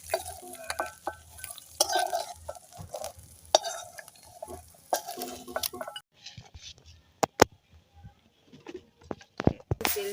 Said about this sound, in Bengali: মাছটা ভাজা হয়ে গেছে, এবার নামিয়ে নেব